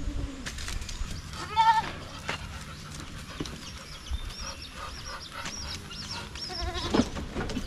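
Goats on a farm bleat several times, some calls loud and near and others softer, over steady background farmyard noise.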